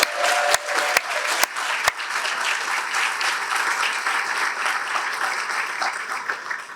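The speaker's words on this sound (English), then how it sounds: "Please give them all a round of applause." A crowd applauds event sponsors: a few sharp nearby claps open into steady, full applause that holds evenly at moderate volume to the end, with no one speaking.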